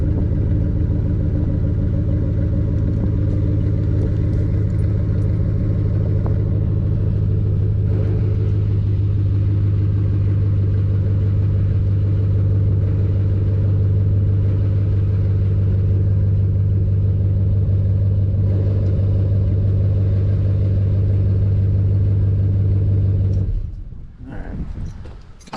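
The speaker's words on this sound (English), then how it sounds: "Cold start, nothing like it." A Chevrolet Silverado truck idles loud after a cold start, its engine holding a deep, steady rumble close by for over twenty seconds before cutting out abruptly near the end.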